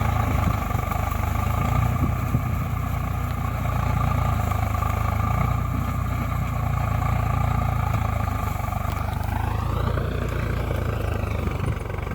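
A motorcycle engine drones continuously in the Farming Simulator video game as the bike is ridden out. The engine note holds a steady, loud hum and rises in pitch near the end, with no talking.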